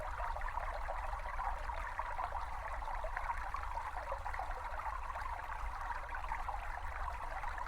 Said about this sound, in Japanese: 5分間ほど小川のせせらぎの音を流しておきます。